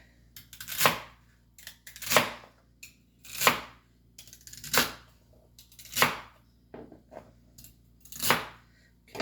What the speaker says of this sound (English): stay with me while I get this cut up